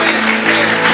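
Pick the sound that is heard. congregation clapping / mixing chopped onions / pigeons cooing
congregation clapping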